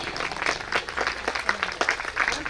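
An audience claps at a school annual award function, a scattered ripple of moderate applause with individual sharp claps standing out, fairly close and steady.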